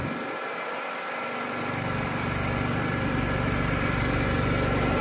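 A Craftsman LT1000 lawn tractor's small engine runs steadily up close while riding, a loud buzzing drone with rattling vibration that swells slightly as it gets going.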